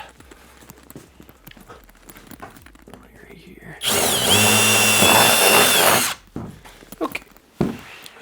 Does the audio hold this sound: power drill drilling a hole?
yes